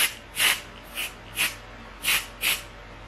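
A makeup fixing spray nozzle hisses out six short bursts in a loose rhythm, close up, with brief quiet gaps between each spritz.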